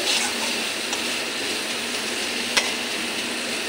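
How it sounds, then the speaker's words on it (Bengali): Masala spice paste with ginger fries in a pan for a pabda fish dish, a close, even sizzle and hiss with one sharp clink of a utensil partway through and no talking. "দেখো আমার মশলাটা কি সুন্দর কষে গেছে"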